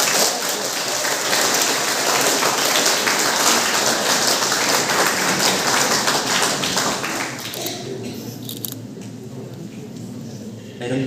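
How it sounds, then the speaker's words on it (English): An audience at a Meghalaya pensioners' association gathering breaks into loud, sustained hand clapping that fills most of the clip, then thins out toward the end. "Shall I again clap our hands to Mr. Weibha Nongtdu Lakiang?"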